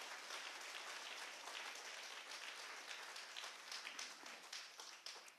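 A church congregation at a Sunday worship service applauds together, a dense, steady wash of clapping that holds evenly for several seconds before easing off, heard from some distance and fairly soft.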